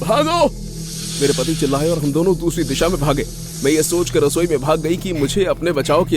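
A snake hisses as a sound effect in an animated horror story set in an Airbnb rental. The steady, breathy hiss runs loud beneath continuous excited narration by a woman.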